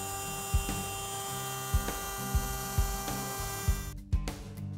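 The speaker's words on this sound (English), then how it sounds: "Adjust your router so the bit leaves a nice smooth transition along the edge of the pine." A router bit cuts a bead along a pine board edge: a steady, droning motor whine with a rhythmic series of soft knocks as the bit works along the wood, ending in a brief clatter.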